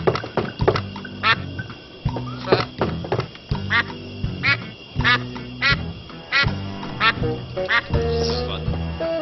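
Cartoon duck in the video game Escape From Monkey Island quacks over and over in quick, loud bursts, set against a repeating game music loop with no talking.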